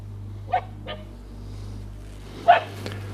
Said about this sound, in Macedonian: Друго куче дојде.